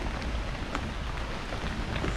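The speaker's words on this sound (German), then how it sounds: "Der angekündigte Regen ist da." Steady rain falls outdoors on a hillside gravel path, giving a dense continuous hiss with a few brighter pattering hits, fairly loud and without voices.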